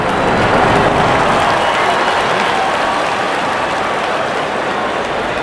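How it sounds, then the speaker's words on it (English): Steady applause from a cricket stadium crowd celebrating a wicket in an India vs Pakistan ODI, a dense, continuous wash of clapping and cheering. "there comes the celebration and the crowd loves it"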